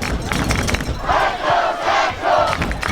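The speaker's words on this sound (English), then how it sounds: "Central fans still cheering strong out there despite the cold weather" Soccer fans cheer in steady waves at a boys' high school state semifinal played in cold weather, a far-off crowd roar rising and falling without a break.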